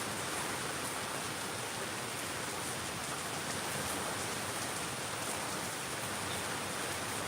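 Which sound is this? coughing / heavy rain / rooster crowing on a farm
heavy rain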